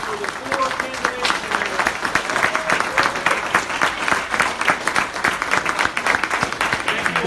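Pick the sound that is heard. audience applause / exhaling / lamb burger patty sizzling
audience applause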